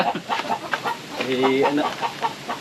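Close chicken clucking and squawking in quick bursts, with a longer drawn-out call in the middle; voices are faintly mixed in.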